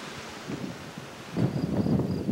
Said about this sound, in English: I can tell it's very windy